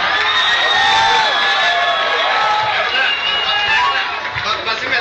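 Live concert audience at Bisonfest 2010 cheering and shouting, a loud sustained roar of voices with whoops and wavering yells filling the whole stretch.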